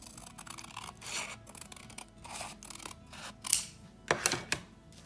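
Scissors cutting through an A4 sheet of paper along a drawn line, a series of soft, close snipping and slicing strokes, quiet and steady, ending in a few sharper cuts.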